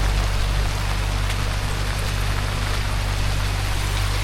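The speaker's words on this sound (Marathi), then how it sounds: "पाणी बघा कसं वाहतंय रस्त्याला, एवढा जोराचा पाऊस चालू आहे." Heavy, sudden rain pours down near a temple on the foggy Bhorgiri to Bhimashankar forest trek in Maharashtra, with water running along the road. It makes a dense, constant hiss, loud and close, with no voices.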